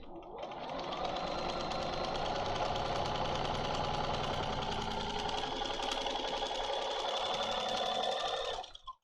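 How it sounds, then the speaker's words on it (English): A sewing machine runs quilt fabric through in one long, continuous burst of rapid mechanical stitching, loud and close, then stops abruptly at the end; no one speaks. "Just sew to the end of the fabric, place the next piece, slide that one back"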